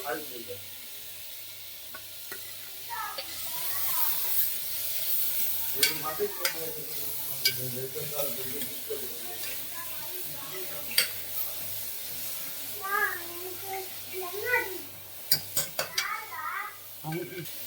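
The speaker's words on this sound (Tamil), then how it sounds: "பச்சை மிளகாய், இஞ்சி பூண்டு பேஸ்ட்டு எல்லாம் போட்டு ஒரு கிண்டு கிண்டு" A spoon stirs green chilies and ginger-garlic paste in a hot pan for coconut milk rice, with soft sizzling, scraping and metallic clinks up close, while a voice talks quietly over it.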